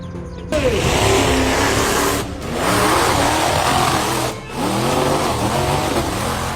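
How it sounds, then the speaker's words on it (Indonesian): A monster truck engine revs loudly and continuously during a stunt show, with roaring surges broken by two brief dips, suggesting a crowd-facing arena run. "Inilah detik-detik ketika sebuah truk monster yang sedang beratraksi tiba-tiba hilang kendali dan menabrak kerumunan penonton."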